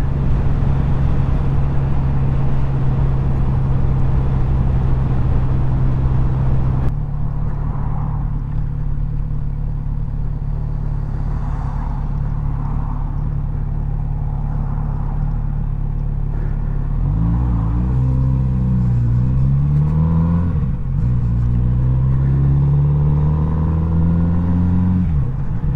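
Steady engine drone of a Kawasaki Z900 RS motorcycle while riding, a loud continuous hum with wind rush that runs unbroken, briefly shifting in pitch as the revs rise and fall toward the end, with no voices.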